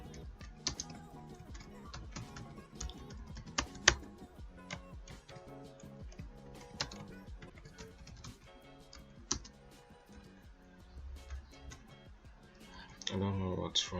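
Someone types on a computer keyboard while coding a website, making rapid irregular key clicks with a few louder taps. A person talks quietly over the typing.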